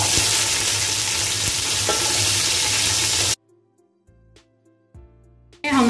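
Capsicum fries in an oiled pan for veg pulao, a loud steady sizzle for a few seconds that then cuts out to near silence, followed by a short music sting.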